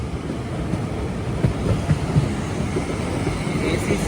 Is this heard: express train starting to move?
yes